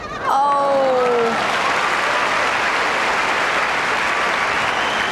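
A Wimbledon crowd at a 1998 tennis match between Haas and Agassi bursts into loud, steady applause after a behind-the-back shot, continuous dense clapping that holds at full strength to the end, with a brief cry at the start.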